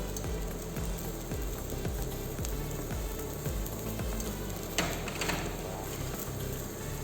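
Red cabbage hitting a hot pan and sautéing for cabbage and beetroot soup, a dense continuous sizzle with rhythmic stirring scrapes throughout, close and steady.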